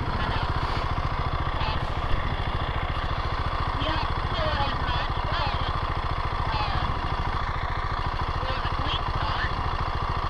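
A motorcycle engine, either a 2021 Moto Guzzi V7 Stone or a 2019 Husqvarna Svartpilen 701, runs steadily at a rhythmic idle, loud and close, with faint voices talking in the background.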